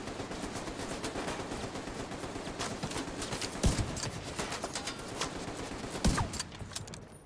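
Rapid gunfire bursts in the shooter video game The Division 2, a steady crackle of shots with a couple of heavier blasts standing out, no voices.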